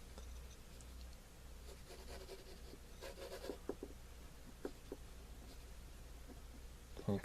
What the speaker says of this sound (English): I'm going to simply sketch in an easel